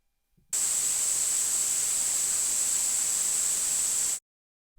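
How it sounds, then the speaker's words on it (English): White noise played from a small speaker, a flat, steady hiss that starts abruptly, holds for about three and a half seconds and cuts off, with silence before and after. "I'm going to play white noise out of this speaker, and I'm going to record that with my microphone."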